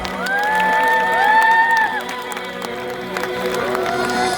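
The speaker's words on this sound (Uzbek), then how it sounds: "Dorbozga qarsak bo'lsin-a." A crowd at an outdoor tightrope-walking show claps and cheers for the rope walker, a steady loud roar of applause with whistles and shouts above it.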